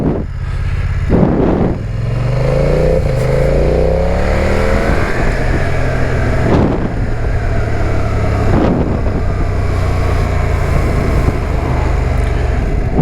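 A BMW F900R or Yamaha 600XT motorcycle riding on gravel on a country road, engine revving and shifting under loud, steady wind rumble throughout, no voices.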